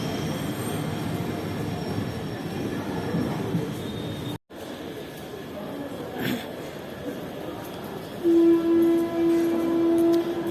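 A train at Gorakhpur Junction railway station rolls through with a continuous metallic rumble and wheel squeal, and a sustained horn-like tone sounds near the end.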